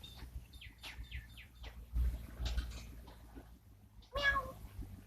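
A house cat meows several times at close range, short plaintive calls followed by a louder one near the end, with light handling noise around them and no talking.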